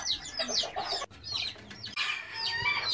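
A Serama hen in a box, newly bought as a mate for a Serama rooster, gives repeated close clucks and chattering calls with brief pauses between bursts.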